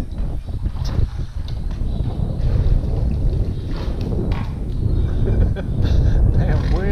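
Strong wind buffeting a boat and microphone while crappie fishing, a loud continuous low roar throughout, with faint voices under it.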